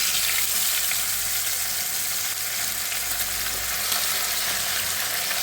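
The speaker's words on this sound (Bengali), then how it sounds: "মাছগুলো আমি ভেজে উঠি।" Amodi fish fry in hot oil in a wok with a continuous close sizzle and crackle, steady and bright, with no talking over it.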